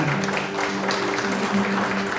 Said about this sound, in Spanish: Den una ofrenda de palmas al Señor, hermana, hermano.